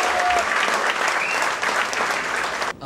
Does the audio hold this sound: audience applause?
yes